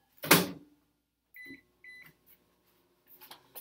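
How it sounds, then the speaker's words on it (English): Microwave oven warming water: a loud clunk of the door or button, then a few short electronic beeps and faint clicks in an otherwise quiet room. "put mine in the microwave real quick to warm up"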